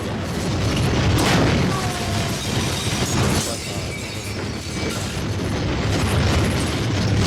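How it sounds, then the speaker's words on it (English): A dense clatter of bursts and crackling pops keeps going over a rumbling, noisy background, firecrackers going off in the video game High on Life. "Firecrackers."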